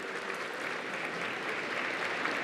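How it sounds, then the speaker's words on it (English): A gala crowd applauding in a large hall, dense continuous clapping heard from a distance with no pauses. "Can I just hear a round of applause for if you were here?"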